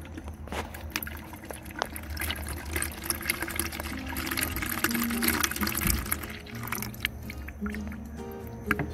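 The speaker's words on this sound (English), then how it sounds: "Okay, so I have a can of pineapple juice. And I'm just going to pour it in here." Pineapple juice pours from a can into a glass, a steady liquid gurgle and splash running close and fairly loud through the whole stretch, with faint clinks and handling noise mixed in.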